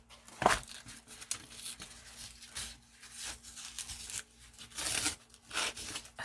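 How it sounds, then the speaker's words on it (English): Thumb tabs being peeled back from a cookbook at a desk, giving soft intermittent tearing and crinkling of paper and adhesive in several short bursts, close up and quiet, with no speech. "I want to peel back"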